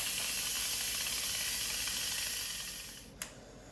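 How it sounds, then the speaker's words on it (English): An Instant Pot's pressure release valve vents steam in a loud, steady hiss close by, fading toward the end before a brief sharp click. "I'm just gonna hit the release valve just to get rid of all the extra pressure"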